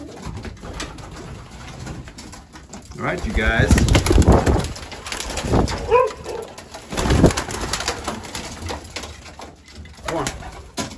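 Racing pigeons coo and flutter nearby outdoors after rain, with a person speaking briefly over the birds.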